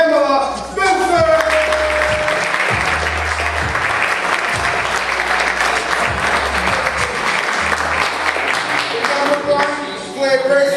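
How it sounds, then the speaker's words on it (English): An audience at an agent awards event applauds and cheers for a second-place real estate agent, with dense, loud clapping sustained for around ten seconds, while background voices and music fade in and out at the edges. "Round of applause for Pamela Spencer."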